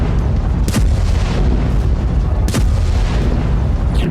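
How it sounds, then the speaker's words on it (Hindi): Bombs falling during the Israeli bombing of Gaza, with two heavy explosive booms about two seconds apart rolling over a constant low rumble. "इस तरह चारों तरफ से गाजा पर इस्राएल बमबारी कर रहा है।"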